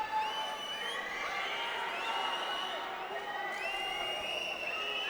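Boxing fight crowd in an arena at Puebla's Centro Expositor, a dense, steady roar of many voices with scattered shouts and whistles running unbroken throughout.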